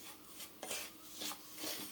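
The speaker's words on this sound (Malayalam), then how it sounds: "ഇനി ഇതിനെ നല്ലവണ്ണം ഒന്ന് ഇളക്കി കൊടുക്കണം." A roasted coconut mixture is stirred in a pan, with a utensil scraping and clinking against the pan in a few separate strokes. The sound is close, fairly quiet and without talk.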